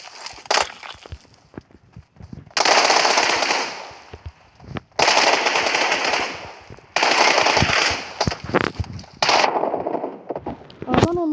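Automatic weapon fire in a shooting video game, several long sustained bursts of rapid shots broken by short pauses, loud and close, with a few separate single shots between them.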